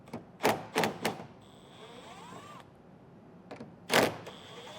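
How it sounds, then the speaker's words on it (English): A 10mm socket wrench removes fasteners near a taillight during a trailer hitch install, giving a few sharp close ratcheting clicks in quick bursts, with a thin whirring tone between them and no talk. "I'm just going to use a 10mm socket. Get these all removed."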